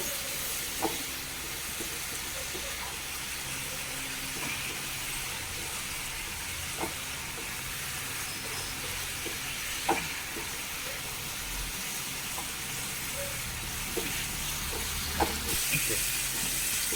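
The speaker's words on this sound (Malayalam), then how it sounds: "ഇനി നമുക്ക് ഇതൊക്കെ ഒന്ന് നന്നായി തിളച്ച് വറ്റി വന്നിട്ടുണ്ട്" Fish fry masala paste simmers and reduces in a pan, giving a steady close sizzle and hiss with scattered small pops and occasional stirring scrapes throughout.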